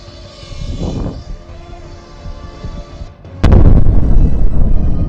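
A building collapses after a drone strike in the Ukraine-Russia war: a low rumbling drone gives way to a sudden loud blast, followed by a sustained heavy roar of debris and rubble.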